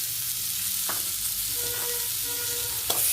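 Grated coconut is sautéed in a pan for Karnataka-style tomato bath, giving a steady sizzle with a few scattered scrapes of a spoon against the pan, close and continuous, with no voices.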